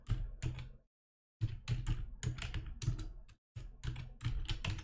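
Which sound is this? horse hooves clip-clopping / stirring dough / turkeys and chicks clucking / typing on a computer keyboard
typing on a computer keyboard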